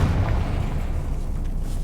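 A Confringo fire spell blasts in Hogwarts Legacy, a dense low rumbling boom that fills the brief moment, loud and close with a rolling burst of energy and no clear talk.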